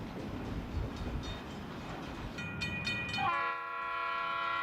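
An eastbound Union Pacific train rumbles at the east edge of Yermo Yard, then its horn sounds in a few short blasts before settling into a long, sustained chord.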